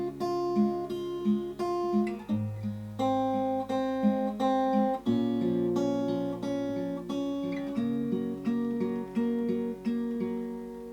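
A fingerpicked acoustic guitar plays the chord progression from a song, with steady alternating bass notes and plucked treble strings moving through several chord changes. It sounds close and clean, with no talking.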